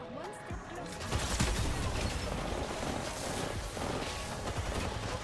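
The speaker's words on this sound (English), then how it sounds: "They're shooting me from on roof and inside." Rapid gunfire in the game Apex Legends as a player is shot at from a roof and inside a building, dense overlapping volleys of shots and mechanical clatter running throughout, loud and close.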